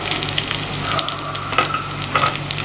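Tempering of dried red chillies, curry leaves, mustard seeds, cumin, chana and urad dal with crushed onion and shallots frying in hot oil, a steady close sizzle with small pops and crackles.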